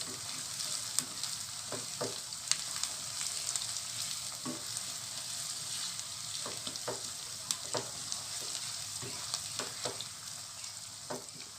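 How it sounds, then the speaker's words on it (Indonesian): Sliced tomatoes sizzle in a hot pan while cooking for Pekalongan soto tauto, a steady close frying hiss broken by occasional soft stirring clinks. "kita masukkan tomat yang sudah diiris. Sampai matang, sampai tomatnya layu."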